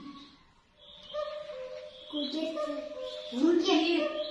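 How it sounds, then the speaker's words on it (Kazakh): A cuckoo calling out its repeated two-note call, clear and close, rising in loudness toward the end and overlapping with people talking nearby. "құстың аты көкет, ол өзінің атын шақырады"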